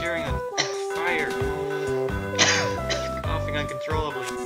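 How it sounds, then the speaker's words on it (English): Coughing and throat clearing from a character in the video game Mother 3, heard over game music, with a voice talking alongside. "Coughing uncontrollably."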